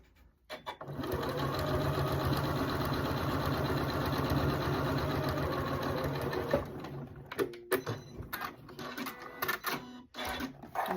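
Sewing machine stitching quilt squares into a long strip, a fast steady mechanical chatter running for several seconds. Then it slows into a few short uneven bursts and handling noises.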